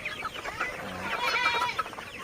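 Sonali super hybrid chickens, 51 days old, clucking on a farm in a flurry of close overlapping calls.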